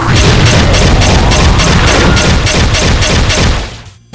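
BFG 15K shots in a DooM mod, a loud fast steady stream of booming blasts at about four per second, continuous and uninterrupted until a sudden stop near the end.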